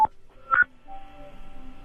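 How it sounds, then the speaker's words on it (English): An iPhone gives short electronic beeping tones, a single beep followed by a quick double beep, close and clear, then fading into a low, steady hum with no voices. "Listen to Jimmy's phone."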